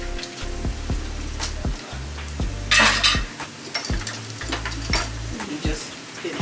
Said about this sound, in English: that's why you need a whisk